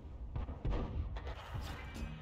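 A tank gun fires in the World of Tanks video game, a dull booming shot with thuds and rumble layered over continuous battle noise, moderately loud and without speech.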